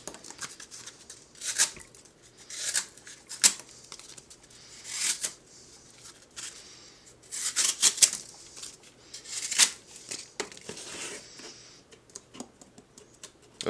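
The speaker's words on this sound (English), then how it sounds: "This is just push cutting cardboard here against the kind of the internal frame." A Chris Reeve Umnumzaan folding knife push-cuts through cardboard against the box's internal frame, giving bursts of crisp slicing and tearing that repeat irregularly over several seconds, close up with no speech.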